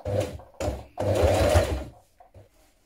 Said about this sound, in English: Now do another line of top stitching 6mm inside.